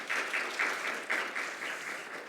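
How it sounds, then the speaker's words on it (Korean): An audience at a copyright law seminar applauds to welcome a speaker, a steady patter of clapping at moderate distance that tapers off slightly by the end. "큰 박수로 환영해 주시기 바랍니다"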